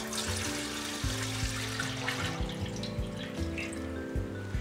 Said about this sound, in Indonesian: masukkan lagi 2 liter air